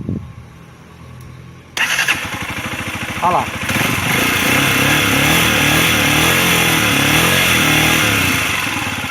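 A Dafra Kansas 150 motorcycle with a faulty rectifier that isn't charging its battery cranks, catches and settles into a steady, loud idle up close, with a brief spoken remark near the start.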